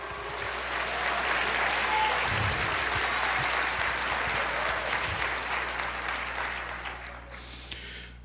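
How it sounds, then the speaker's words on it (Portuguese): A church congregation applauds during a Portuguese-language Easter sermon, clapping swelling to a full, steady roar, holding for several seconds, then tapering off toward the close. "Aplauda o Senhor, glorifique."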